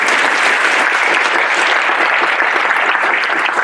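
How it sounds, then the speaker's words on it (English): Loud, dense audience applause for the class at a white coat ceremony, continuous close clapping from a large crowd that stays even from start to finish. "Let's all give a big round of applause for the class."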